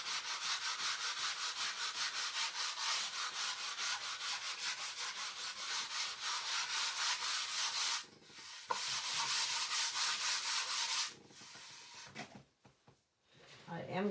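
A sanding block rubs back and forth across a painted wooden paddle in quick, even rhythmic strokes, close and steady, broken by brief pauses and some handling noise near the end.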